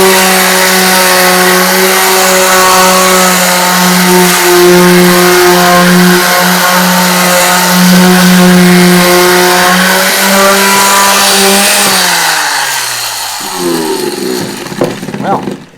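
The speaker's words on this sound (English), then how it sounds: "let's just see what the sander will do as we continue" A power sander runs on wood to give it a distressed, antique finish: a steady, loud motor whine with a rough grinding edge. Near the end it winds down and drops in pitch as it is switched off.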